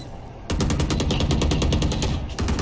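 Rapid automatic gunfire in the video game Valorant rings out loudly in one sustained burst of evenly spaced shots, starting abruptly and cutting off near the end.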